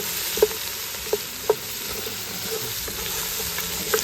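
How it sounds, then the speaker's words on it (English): Vegetables sautéing in oil over an outdoor cooking setup give a steady close sizzle, broken by a few soft stirring clicks and taps, with no voices. "while these vegetables saute in this oil"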